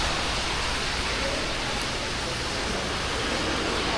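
Heavy rain falls in Phuket as a steady, loud, dense hiss that fills the whole stretch evenly, with no voices.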